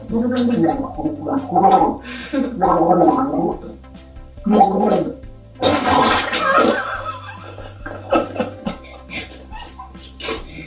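Water held in the mouth gurgles loudly during a home water game, in several strained gargling bursts separated by short pauses, with one sputtering, splashy outburst.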